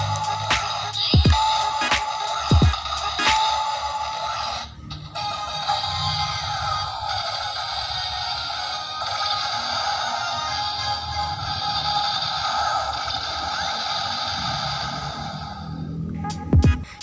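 Electronic engine sound effect from a DX Ginga Miridewatch transformation toy: a sustained buzzing, warbling synthetic tone lasting several seconds, bracketed by sharp clicks and button presses at the start and end.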